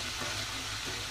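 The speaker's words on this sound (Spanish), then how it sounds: "el ajo y el morrón. Sofreímos por unos minutos." Garlic and bell pepper sauté in a pan with a soft, even sizzle, a continuous close frying hiss with no talking.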